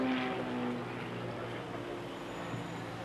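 An aerobatic plane performs at full power over a lake during an air show, a steady, fairly distant propeller drone that holds at a constant level throughout.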